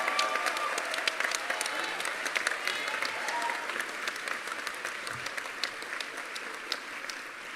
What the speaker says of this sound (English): If you could give her a big round of applause,